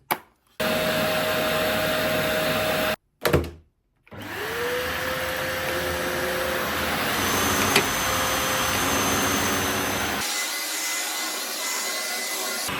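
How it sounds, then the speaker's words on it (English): Eureka Dash Spring vacuum cleaner running on carpet, a loud steady motor whine that cuts out twice and restarts, then shifts to a changed tone near the end, with no speech. "It doesn't seem to be doing much on the carpet at all."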